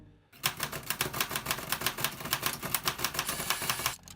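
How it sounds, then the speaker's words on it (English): Rapid, even typewriter keystrokes clatter close and loud in a dense, steady rhythm for about three and a half seconds, starting and stopping abruptly, with no speech. "Some models, like the Remington Noiseless, aimed to reduce the loud noise produced while typing."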